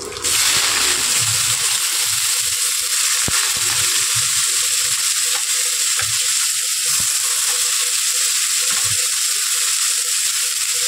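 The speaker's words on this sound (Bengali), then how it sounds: "পেঁয়াজগুলোকে আমি একটু ভেজে নেব।" Chopped onions fry in hot oil with chopped green chillies, bay leaf and whole cumin, a loud, close, unbroken sizzle with faint scraping and stirring clicks underneath. No voices.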